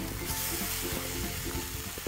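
Boiled tapioca stirred into gravy in a pan, giving a steady sizzle with soft scraping and stirring bumps throughout, close and alone.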